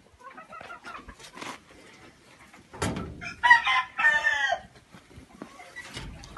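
Sultan ornamental chickens in a coop, clucking close by, then a loud rooster crow in the middle of the clip, with more soft clucks around it.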